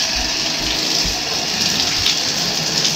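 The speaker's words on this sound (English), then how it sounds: "I'm going to make sure I run a lot of hot water down the drain afterwards" Hot tap water gushes steadily down a sink drain after degreasing new traps, a loud, even rushing hiss that stays close and unbroken throughout.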